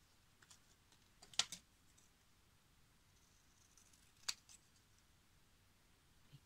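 Scissors snip through a photo for a metal journal cover, two short crisp cuts a few seconds apart, close and quiet against a still room.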